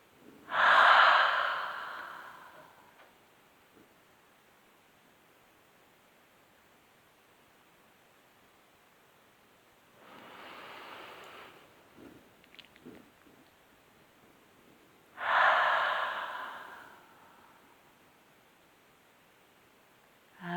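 Forceful exhalations during a yoga breathing exercise, done with mouth wide and tongue out: three long, loud breaths spaced several seconds apart, the middle one softer, heard alone over faint room noise.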